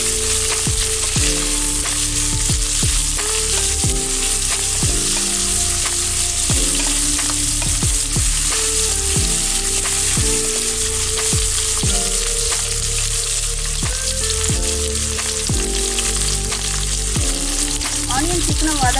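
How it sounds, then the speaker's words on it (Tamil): Onions fry in a pressure cooker for chicken biryani, a loud continuous sizzle with repeated scraping stirs in a steady rhythm. "இப்போ நம்ம ஆனியன் போடுறோம். ஆனியன் நல்லா கலந்து விட்டுக்கோங்க."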